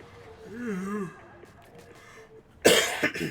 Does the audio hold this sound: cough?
yes